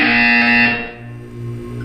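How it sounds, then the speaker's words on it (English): A loud, harsh electronic buzzer sounds during a wellness exercise in the video game Portal 2, one sustained buzz of just under a second that then drops away into a quieter low hum. "When you hear the buzzer, look up at the ceiling."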